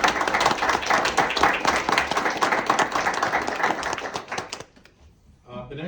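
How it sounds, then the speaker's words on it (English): Board of adjustment members and attendees applaud a retiring member with a dense, sustained round of clapping that tapers off and stops near the end, followed by a few faint sounds of movement. "So we applaud and thank you."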